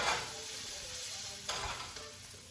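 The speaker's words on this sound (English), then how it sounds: "So we're just adding our mushrooms and our shallots to your skillet. And we're going to let that saute." Mushrooms and shallots sauté in a skillet with a steady, close hiss and sizzle, and a single stirring scrape partway through.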